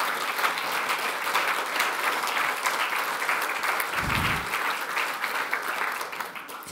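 Audience applause welcoming the Fugger family on stage at a debate event, dense even clapping from a large crowd, loud and steady before tapering slightly at the end.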